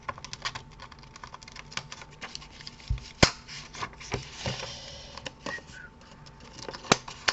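Corners of an autumn fox-themed paper card being rounded with a tool, producing a scattered series of close, crisp clicks and snaps at an irregular pace, a couple noticeably louder.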